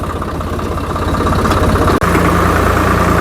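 A tractor engine runs during a ride through flooded villages, a loud, steady low diesel drone with a brief dropout midway before it resumes just as strong.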